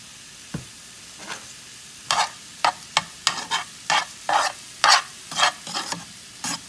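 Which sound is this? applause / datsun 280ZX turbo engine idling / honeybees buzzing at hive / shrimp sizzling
shrimp sizzling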